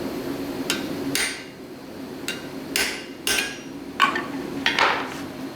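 Hammer striking a punch to drive a slug out of hot metal, seven or so sharp metallic blows at uneven intervals, loud and close, with a faint background hum between strikes.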